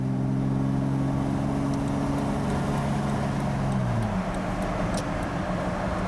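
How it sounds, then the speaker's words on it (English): Driving a Jeep Wrangler TJ with a 4-speed automatic in congested traffic after a PCM/TCM replacement, the engine drone holds steady, then drops as a gear change comes through partway. Road noise hums underneath, and no one talks. "you can see for yourself how everything's shifting good"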